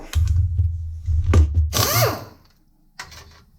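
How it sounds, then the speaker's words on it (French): Power tool with a socket loosening a bolt on a mini excavator gearbox being disassembled, a close, loud low whirring burst followed by a rising whine and brief rattling, with a short pause between bursts. "et on prend la déboulonneuse avec la douille"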